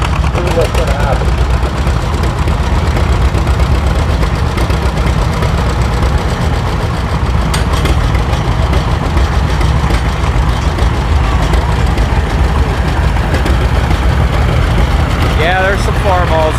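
Loud, continuous rumble of old farm tractor engines idling and running at an old-time tractor pull show, close by, with people talking faintly underneath.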